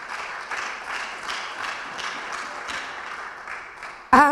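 A church congregation applauding and clapping in a steady, rhythmic wash at moderate loudness, ending with a sudden louder burst.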